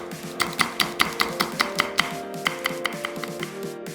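A kitchen knife julienning seven perilla leaves into thin strips and slicing a Cheongyang chili pepper on a cutting board, a steady run of about a dozen crisp, close chops in quick rhythm, alone with no talk.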